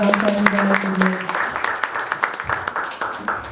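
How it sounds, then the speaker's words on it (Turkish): An audience applauds at a film talk during an international arts-days event in Trabzon, a burst of clapping with a voice over it at first, then thinning to scattered claps. "Güzel alkışlarınızı davet ediyoruz."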